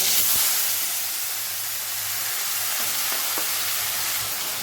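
Sliced onions and a ginger-garlic-green chili paste sizzling in hot oil in a pan, a strong close hiss that is loudest at the start and then settles into steady frying, with a few faint utensil taps and no speech.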